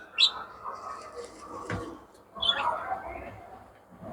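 Pet birds kept in cages on a balcony give short bright chirps, one near the start and another partway through, over a low background with faint voices in between.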